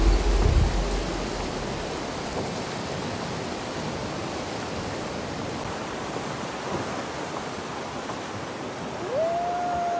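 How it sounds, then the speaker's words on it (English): A river waterfall roars as a constant broadband rush of falling water, steady and fairly loud throughout, with a brief tone rising near the end. "This is a river and there is a waterfall"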